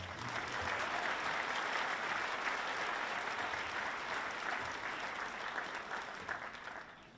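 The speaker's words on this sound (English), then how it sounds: "Give them a round of applause." Soft, steady applause from the audience at an elementary school band concert, heard from a distance, holding evenly before thinning out toward the end.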